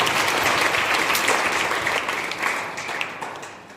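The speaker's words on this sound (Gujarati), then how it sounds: "સબ તાળી પાડીને ધન્યવાદ કરો." Audience applause fills the space as a crowd thanks a woman who recovered from cancer with Ayurvedic treatment, steady dense clapping throughout that gradually thins and softens toward the end.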